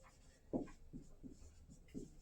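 Chalk or pen writing on a board, a few short scratchy strokes with pauses between them, close and soft, with no talk.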